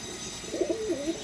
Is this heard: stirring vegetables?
no